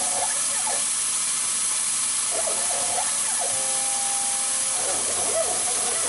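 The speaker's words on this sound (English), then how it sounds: "It's a sticky piece of brass and a little dinky tiny end mill." Continuous whining machining noise with a high hiss, shifting pitch sweeps and a steady tone as a tiny end mill cuts sticky brass, with air blowing on it and no talking.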